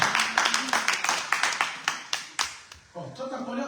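A church congregation clapping during a lively worship service, a dozen or so sharp close claps in uneven rhythm, fading out as voices and singing take over at the end.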